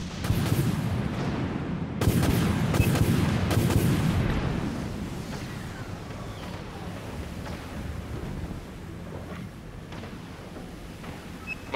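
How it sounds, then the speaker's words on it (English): Torpedoes launch in the Dreadnought space combat game, a burst of heavy booming thuds and whooshes that fades into a low rumbling drone. "Enemy has a lock. I launch torpedoes."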